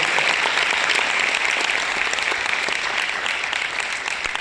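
Loud, sustained applause from an audience at an MI Lifestyle Global business rank-achiever event, a thick continuous patter of many hands clapping for the leaders present.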